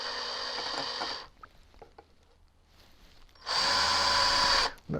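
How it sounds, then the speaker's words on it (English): A power drill running in reverse while drilling a guitar body whirs steadily, stops for about two seconds of quiet handling noise, then whirs again at the same pitch before cutting off. "Now I'm just going to start the drill in reverse."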